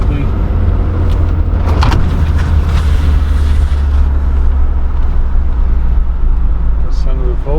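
A 1971 Mercedes-Benz 300SEL 6.3 accelerating onto the highway fills the cabin with a loud, steady low engine and road rumble that holds throughout, with a faint brief whir near the end.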